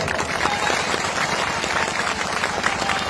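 Crowd applause at a large political rally in Gandhi Maidan, Patna: a loud, dense roar of many hands clapping at once, sustained and close, with faint crowd noise mixed in.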